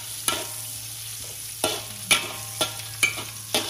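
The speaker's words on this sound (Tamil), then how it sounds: "நெத்திலி பொரிக்கணும், பட்டை மிளகாய் பொரிக்கணும்" Oil sizzles steadily in a pan frying anchovies and dried chillies while a utensil scrapes and stirs at a regular pace, several sharp strokes over a low background hum.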